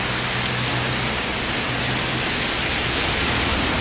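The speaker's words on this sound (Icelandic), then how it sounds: "En svo sést hérna á bara rigning sko." Steady rain falls in Puerto Rico, a thick, constant wash of hissing drops on surfaces that stays loud and unchanging throughout, with a faint low hum underneath and no talking.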